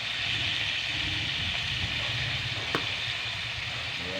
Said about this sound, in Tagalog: Niluluto na ako ngayon ng patula.